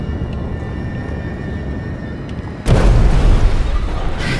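Explosion in the video game Escape Dead Island bursts in at once as a loud, broad boom, then a sustained rumbling roar that fills the rest of the clip above a steady game background.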